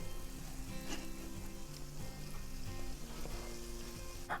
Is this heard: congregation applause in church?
no